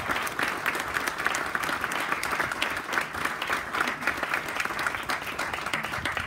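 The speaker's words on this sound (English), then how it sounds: "So let's give a big round of applause for" Audience at a veterans family wellness center and legal clinic opening ceremony applauds Chancellor Block, with steady, dense clapping that stays loud and even throughout.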